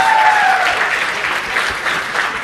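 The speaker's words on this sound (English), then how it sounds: "Give a big round of applause." Applause from the audience at a tech developer conference, dense and steady clapping filling the room for a couple of seconds, with a faint voice briefly audible at the start.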